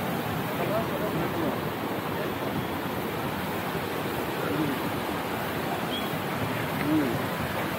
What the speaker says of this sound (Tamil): கீழே தண்ணி போயிட்டுருக்கு.